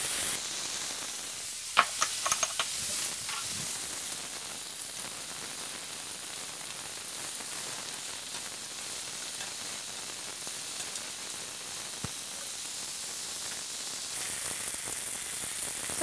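Venison searing in a hot pan with clarified butter gives a faint, steady sizzle and hiss, with a few brief pops near the start.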